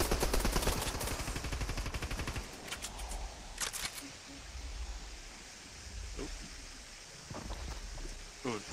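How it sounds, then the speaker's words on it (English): Gunfire in a Fortnite match, sharp shotgun-like blasts and rapid crackling shots over a dense, noisy game soundscape, with intermittent voices over the action. "Hit him with that fucking pump shotgun."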